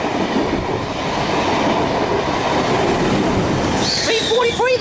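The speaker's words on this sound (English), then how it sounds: "We have an 8-car V-set passing platform number 2." A long 8-car V-set train rumbles past platform 2 at Cowan at close range with a steady roar, ending in high wheel squeals as it clears.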